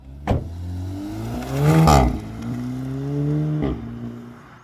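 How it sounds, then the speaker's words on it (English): An Audi S3 engine pulls while driving, its note climbing and easing through several rising revs, loud and close with a sharp thump near the start. "So let's take a listen at how the car sounds."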